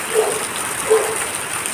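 Light rain falls at night in Mangaluru during the second monsoon shower, a soft steady hiss with no speech.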